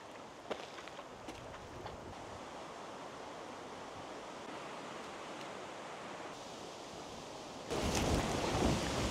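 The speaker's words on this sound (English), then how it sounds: "It is quite windy." Steady wind rushes over the microphone in a Finnish forest, a broad hissing roar that grows noticeably louder and rougher near the end.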